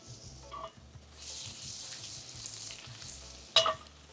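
Cumin, garlic and ginger-chili paste frying in hot oil, a bright, steady sizzle that swells after the ingredients drop in, with a sharp clink near the end, close up and free of talk.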